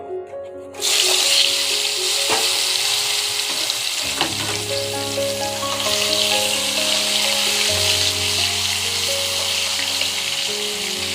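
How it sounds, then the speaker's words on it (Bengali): Pieces of pointed gourd (potol) drop into hot oil, which bursts into a loud, continuous close sizzle after a brief quiet start, with a few clinks as more pieces go in. "তেল আমার গরম হয়ে গেছে, এক এক করে পটল ভেজে নেব।"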